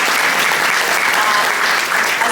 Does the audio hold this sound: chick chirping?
no